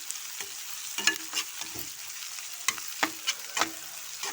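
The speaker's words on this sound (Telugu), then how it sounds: "అందులో 1 కప్పుడు పల్లీలు వేయించండి." Peanuts frying in a pan, a soft sizzle broken by sparse, irregular stirring clicks and rattles, close but faint, with no voices.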